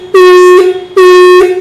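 A universal motorcycle anti-theft alarm, wired to the bike's horn, sounds right after locking: two loud, close, sustained horn-like blasts, each about half a second long, with a short gap between them.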